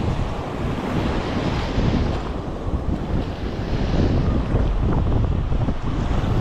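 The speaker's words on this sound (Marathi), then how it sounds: "मस्त बघा समुद्र कसं खवळलेला असा" Rough, churning sea surf breaks along the shore near a small seaside temple at Gorai beach, a loud, continuous roar mixed with heavy wind buffeting the microphone and no talking.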